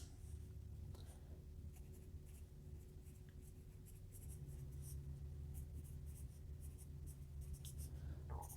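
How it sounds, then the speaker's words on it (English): A Musgrave Test Scoring 100 graphite pencil writing on paper, a faint, steady, close scratching and shading that continues without a break over a low hum, with no voices. "Let's lay down some graphite and get a sense of the tone."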